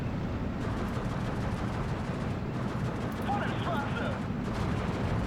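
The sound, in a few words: gunfire at an MG42 position in Steel Division 2 video game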